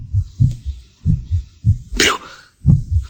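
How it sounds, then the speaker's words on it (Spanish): A heavy, steady heartbeat thumps in paired low beats, close and prominent, with a brief spoken word cutting in midway. "los latidos se oían cada vez más fuertes, más fuertes"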